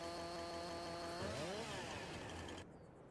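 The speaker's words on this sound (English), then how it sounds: "pull out the chainsaw, it's just not operating" A chainsaw in the video game Farming Simulator 22 buzzes steadily, its motor pitch swooping upward midway before the sound drops away abruptly near the end, with no voices.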